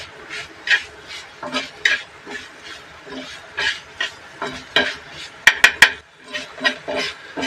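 A vegetable dish stirred in a pan, with repeated scraping strokes of a spoon against metal in an uneven rhythm, a few sharp clinks near the end, and faint background sounds.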